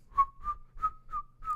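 A person whistles a song's melody as five clear, pure tones in a steady rhythm, close and unaccompanied.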